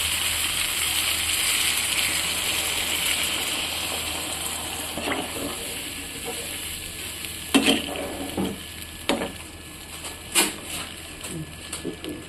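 Water goes into a pan of sautéed vegetables, bringing a bright, hissing sizzle that gradually eases. Sharp spatula scrapes and knocks sound near and loud in the second half.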